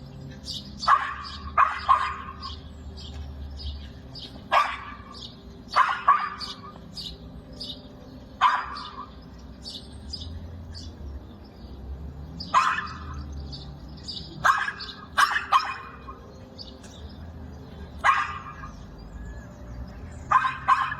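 An aggressive dog barks at a cat in repeated sharp, slightly distant barks at irregular intervals, with birds chirping faintly and a steady low background hum throughout.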